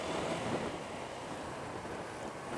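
Sea waves wash steadily onto the shore at Dingalan, Aurora, a continuous broad roar of surf with wind blowing across the microphone and no voices.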